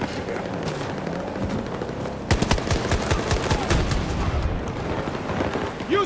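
Rapid bursts of automatic fire from the 12M Auto gun in a video game, a dense stream of sharp repeated shots that grows louder partway through and keeps going, with a steady game soundscape underneath.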